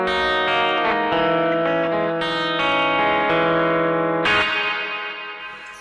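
Electric guitar chords ring out through a TC Electronic Plethora X3 pedal set to reverb, each strum sustaining and washing into a lingering tail, loud and alone before fading at the end.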